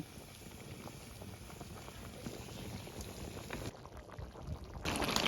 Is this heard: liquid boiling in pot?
yes